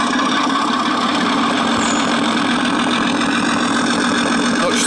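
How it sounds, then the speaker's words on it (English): A brushless electric motor on a 5 inch gauge narrow gauge maintenance train runs loud and close, a steady bassy rumble with an even mechanical hum and no talk. "it is actually quite bassy, so you do get a nice rumble from the motor"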